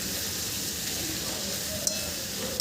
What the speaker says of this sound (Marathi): इथे आपण ही मसाल्यामध्ये ही भाजी छान परतून घेत आहोत।